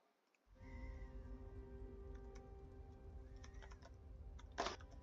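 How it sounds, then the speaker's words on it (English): Rapid clicking keystrokes on a computer keyboard under steady background game audio, with soft scattered taps and a sharper cluster of clicks near the end. "I'm typing that out."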